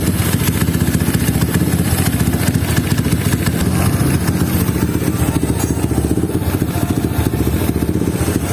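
Motorcycle engine fitted with a 71 mm Herex piston and 66.2 mm stroke, running with a loud, close, rapid throbbing clatter throughout, steady and without talk.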